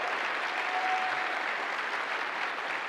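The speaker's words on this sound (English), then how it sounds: "Another round of applause." Sustained applause from an audience at an AWS re:MARS conference, dense and even, continuing without a break from start to finish.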